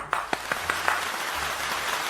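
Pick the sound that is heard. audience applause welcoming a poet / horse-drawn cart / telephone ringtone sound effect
audience applause welcoming a poet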